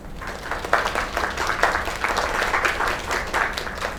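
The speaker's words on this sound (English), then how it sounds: "Another round of applause." A crowd claps steadily, dense applause with bursts of louder clapping, no voices over it.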